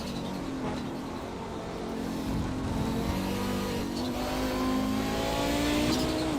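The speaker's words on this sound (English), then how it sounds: "Let's just jump on and listen to his car." Race car engine in the iRacing video game, a damaged car whining and revving in rising and falling sweeps, loud and continuous with tire noise beneath.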